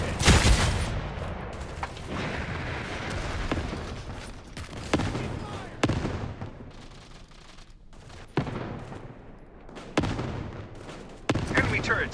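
Gunfire and heavy explosive blasts from the Modern Strike mobile shooter game come as repeated sharp booms and bursts at irregular intervals, loud and close, with a background of game noise.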